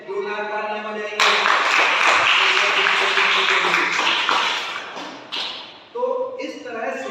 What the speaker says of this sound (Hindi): 2 लाख तालियां बजाएंगे